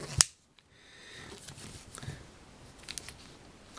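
A sharp snip of the small scissors on a Victorinox Super Tinker pocket knife up close, followed by a few faint clicks and rustles in a quiet room.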